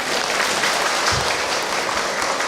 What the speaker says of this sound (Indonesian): Tepuk tangan atuh.